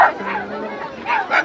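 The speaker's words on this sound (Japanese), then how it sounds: "いやよく吠えるわやっぱりダックスフンドは。" A dachshund barks repeatedly on a Paris street walk, its sharp yips rising near the start and again toward the end, with crowd noise and voices around it.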